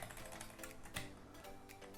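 Someone types C# code on a computer keyboard, and a few faint, soft key taps sound over a steady low background hum.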